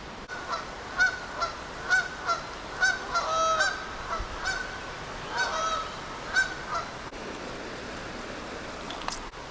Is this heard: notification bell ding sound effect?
no